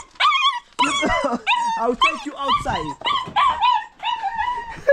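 A pet dog whimpers and yips in a rapid string of high, whiny cries close by, nearly continuous, while a person speaks briefly near the end.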